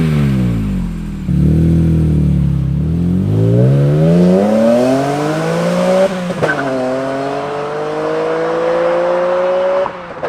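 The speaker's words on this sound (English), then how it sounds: "I decided to go with the Rogue Engineering El Diablo exhaust, and man was I a fan" A BMW E46 M3 fitted with a Rogue Engineering El Diablo exhaust revs loud and close, its deep engine tone climbing and falling through several rising sweeps with no talking over it.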